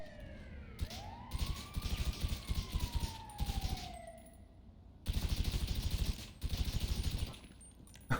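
Police siren in the GTA video game: a wailing siren sweeps up and down at moderate distance while bursts of rapid gunfire repeatedly cut across it.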